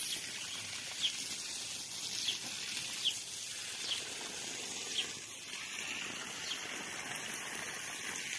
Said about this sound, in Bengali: দেখো এখন আমার দাদা জল দিচ্ছে, দেখো লুকিয়ে দিচ্ছে ফুল গাছে, সব গাছে জল দিচ্ছে।